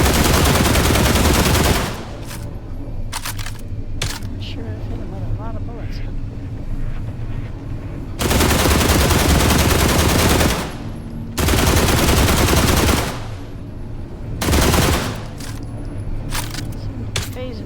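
Rapid bursts of automatic gunfire in the video game The Last Caretaker, loud and dense, coming in several long volleys over continuous game noise.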